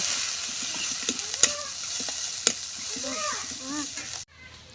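Onion and green chili sizzle in hot oil in a village kitchen, a steady close frying hiss with a few sharp stirring clicks, while someone talks over it now and then.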